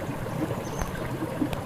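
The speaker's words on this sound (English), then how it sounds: "A little bit of water running through right there." A partly frozen brook trickles through an icy trench, giving a soft continuous burble and gurgle with small splashes, close and fairly quiet, alone without voices.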